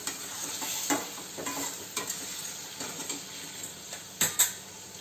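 Turmeric sautés in a pan as a spoon stirs it, soft sizzling under repeated scraping and clinking strokes against the metal, close and fairly quiet with no voices.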